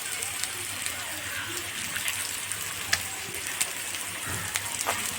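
Sliced yam frying in a little oil, a continuous soft crackle and hiss with scattered small pops, close and steady throughout.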